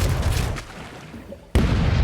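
Ship cannons firing in the naval pirate game Rogue Waters: a steady roar of heavy booms and rumble, a brief lull, then a sudden loud cannon blast and continued booming.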